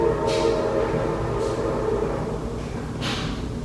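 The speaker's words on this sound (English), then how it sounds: "Gotta wait for the train to go." A train rumbles past at a steady, loud level for several seconds, with intermittent hissing bursts over the continuous rolling drone and no talking.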